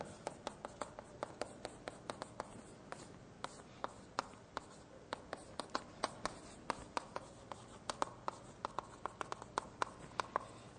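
Someone writes by hand during a math lecture, making a long run of sharp, irregular taps and scratches over a faint room hiss, with no talking.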